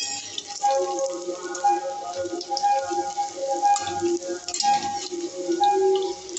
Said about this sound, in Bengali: আমার পাকোড়াগুলো একদিকে লাল লাল করে ভাজা হয়ে গেছে। এবার আমি উল্টে আরেকদিকে